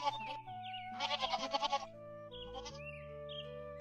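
Several goats bleat in quick succession in a cartoon farmyard, a burst of wavering, pulsing cries near and loud, followed by a shorter bleat amid light background music.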